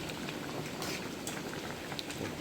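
A large pot of mushroom curry bubbling at a steady rolling boil, with soft popping and gurgling throughout, fairly quiet and close.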